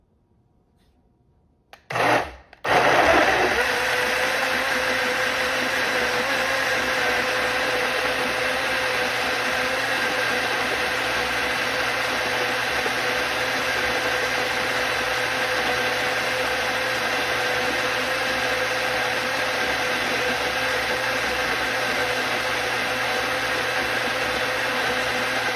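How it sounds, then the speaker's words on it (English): Blender blending high-antioxidant, high-omega-3 smoothie ingredients, starting with a short stuttering pulse, then running as a loud steady whirring drone for over twenty seconds. "next we're going to blend all the ingredients together"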